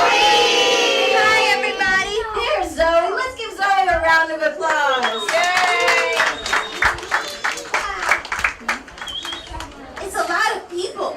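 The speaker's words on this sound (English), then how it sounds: "Let's give Zoe a round of applause." Audience at a children's book launch in a bookstore clapping and cheering for the author, with children's excited voices and adult speech mixed through the lively applause.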